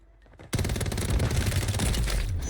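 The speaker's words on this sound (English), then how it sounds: "Start shooting at him." Rapid automatic gunfire in the video game Warzone erupts after a quiet half-second and continues as a loud, dense stream of shots to the end.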